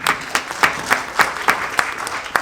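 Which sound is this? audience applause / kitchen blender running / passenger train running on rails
audience applause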